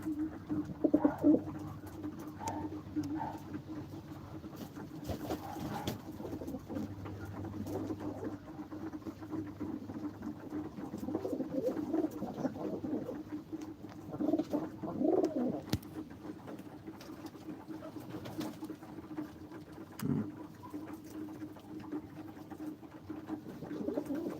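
Baku pigeons coo softly and repeatedly over a quiet background, with occasional faint rustles and taps, nothing spoken.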